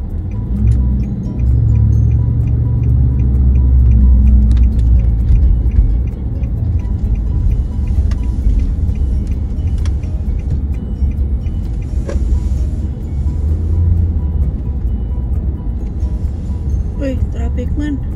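Road traffic rumbles steadily around a vehicle stuck in the 4 o'clock rush as workers head home. Quick ticks repeat throughout while people talk over the engine and road noise.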